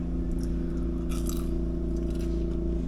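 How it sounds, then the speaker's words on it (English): Someone bites into warm, freshly baked caramel corn straight from the oven, giving a short crunching burst close up over a steady low background hum. "But I'm gonna eat this anyway because it tastes good"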